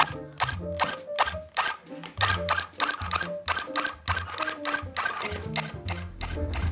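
A rug tufting machine runs in short, rapid mechanical bursts, its clattering punches starting and stopping repeatedly at close range with no talking.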